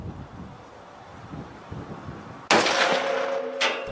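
A single sharp rifle shot from a .243 fired at a deer outdoors cracks loudly after a stretch of wind-buffeted quiet, followed by a ringing, echoing tail.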